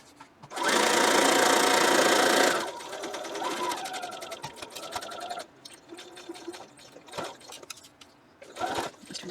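A sewing machine stitches a quilt seam: a loud, fast continuous whir for about two seconds, then slower runs of stitching mixed with handling clicks and rustling.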